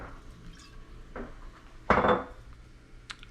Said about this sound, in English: And then to top it off, some prosecco.